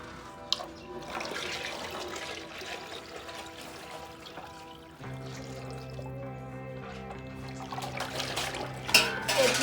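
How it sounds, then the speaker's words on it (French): Water poured into a pot during home cooking, a steady splashing pour running throughout with a shift partway through and a louder burst near the end. "On rajoute d'abord de l'eau."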